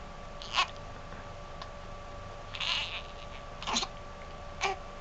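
Hiccups from a baby come as four short, distinct catches spaced a second or so apart, fairly close and soft over a quiet background hum.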